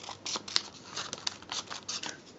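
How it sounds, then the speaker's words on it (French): Scissors snipping through paper while making an Easter bunny greeting card, a series of short soft crisp cuts and rustles at close range, with no talking. "tu peux couper un petit peu là"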